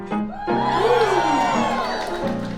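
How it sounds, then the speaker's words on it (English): Crowd of single audience members at a dating show cheering and whooping, high shouts and whoops rising over a bright crowd roar, with a loud swell in the middle. "Make some noise if you're single"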